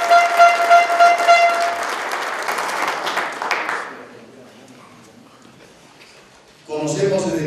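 Crowd applause at the launch of a football club's 2015 campaign, dense at first, then fading to a low murmur before a fresh loud burst near the end.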